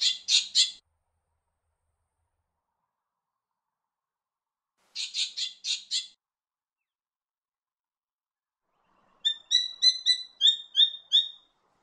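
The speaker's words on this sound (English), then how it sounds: "A bird you'll certainly hear around town is the spangled drongo." A spangled drongo calls in a few bursts of rapid, harsh chattering notes separated by silence, ending with a longer series of metallic, twanging phrases, moderately near and heard alone.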